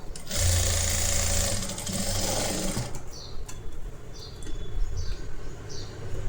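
A sewing machine stitches a blouse collar in a steady loud whir for about three seconds, then the motor slows and stops, leaving quieter rustling and light clicks of fabric handling.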